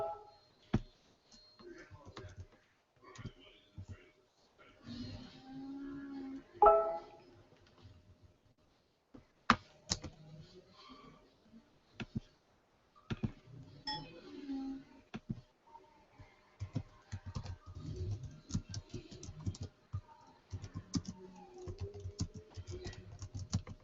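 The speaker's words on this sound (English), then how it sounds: "If you guys hear a bunch of typing, that's me typing to my friends." Quiet, irregular clicking of fingers typing on a computer keyboard, with bursts of rapid keystrokes and brief pauses, close to the microphone in a quiet room.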